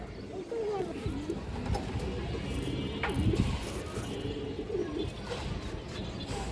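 Pigeons coo steadily at a pigeon farm, their low rolling calls close and overlapping against a constant backdrop of flock murmur.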